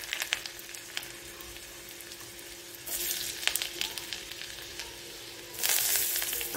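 Curry-leaf, garlic, turmeric and asafoetida tempering sizzling in hot oil, a steady crackling fry that grows louder in two bursts, as if spices hit the oil or it is poured and stirred, with no talk.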